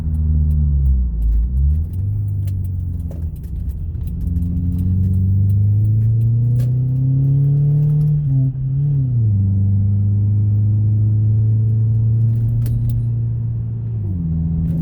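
A 2000 Toyota Camry with 275k miles downshifts while driving, its engine drone rising and dipping with each gear change under a steady, loud road rumble inside the cabin.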